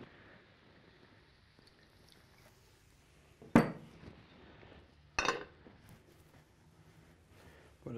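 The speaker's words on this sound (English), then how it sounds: "So I'm ready to put the lid on them." A lid goes onto a cooking pot in a quiet kitchen, with two sharp metallic clanks a couple of seconds apart over faint background rustle.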